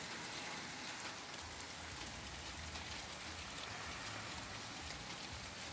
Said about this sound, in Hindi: वाओ देखिए इतनी तेज बारिश हो गई